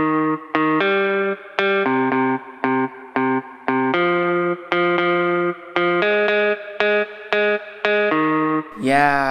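A bedroom pop synth melody of short, bright, harmonic notes plays in a bouncy rhythm. It is shaped with EQ, compression, saturation and reverb, giving a loud, polished, slightly distorted sound that ends with a brief noisy swell.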